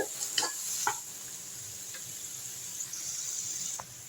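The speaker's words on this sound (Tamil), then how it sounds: "நல்லா வதக்கி விட்ருங்க வதங்கின பிறகு கொஞ்சமாக ஆகிடும்" Tomato rice mixture being sautéed and stirred in a pan, giving a steady soft sizzle with a few light scraping taps from the spoon, close by and with no one talking.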